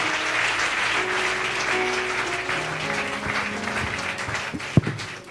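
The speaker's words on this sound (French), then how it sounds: "Now clap for Jesus." A church congregation clapping for Jesus, a steady, dense wash of applause from many hands throughout, with one sharp louder clap near the end.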